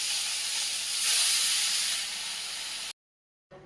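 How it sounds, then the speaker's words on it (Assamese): Fish frying in oil on a gas stove gives a steady, close hiss that swells slightly midway, then cuts off abruptly into silence before a faint return. "ব'লক এতিয়া গেছটো জ্বলাই মাছকণ ভাজি লওঁ"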